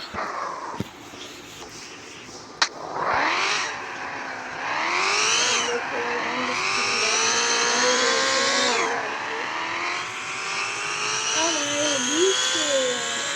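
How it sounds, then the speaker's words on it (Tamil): Video game car engine starting and revving, rising pitch sweeps climbing and dropping in repeated surges, then a sustained loud drone with wavering tones, after a sharp click near the start. "ரியலில் இந்த கார்லாம் ஸ்டார்ட் பண்ணும்போது நல்லா சவுண்டு வரும்ல, அதே மாதிரி வருங்க"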